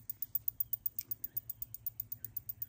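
A snake repeller device set in a garden flower bed emits a steady run of quiet, evenly spaced electronic clicks or ticks, about seven per second, close by and with no one talking.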